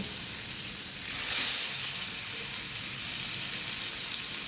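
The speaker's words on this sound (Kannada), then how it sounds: "ಇವಾಗ ನಾನು ನೋಡಿ ಇವತ್ತು ರವೆ ಅಲ್ಲ ಇದು ಬರೀ ಫ್ರೈ ಮಾಡ್ತಾಯಿದ್ದೀನಿ" White pomfret fish frying in a pan on low heat, giving a steady, soft sizzle with a faint hiss throughout and a brief swell near the start, without any voices.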